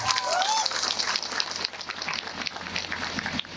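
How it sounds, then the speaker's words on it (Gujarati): A crowd at a farmers' and tribal rally claps loudly in tribute to the police officers, home guards and constables present, sustained applause that dips briefly midway, with faint voices mixed in. "એકવાર આપણે જોરદાર તાળીઓ પાડી લઈએ"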